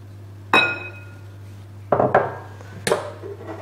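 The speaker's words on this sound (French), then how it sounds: "on va mélanger donc la purée de potiron" A spoon strikes a bowl while pumpkin purée is stirred for pumpkin cookies, giving three or four sharp, sparse clinks over a quiet kitchen background.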